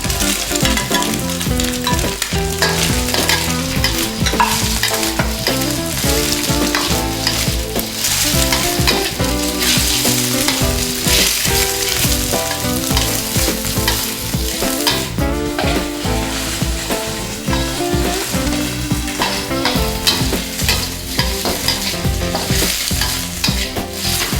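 Chopped ingredients and tiny dried shrimp are stir-fried for pad thai, a loud, dense, unbroken sizzle with constant clattering and scraping of tossing and stirring throughout.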